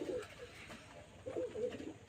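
A pet black pigeon being treated for pox gives low, rolling coos in two short bursts, soft and close, with no talk.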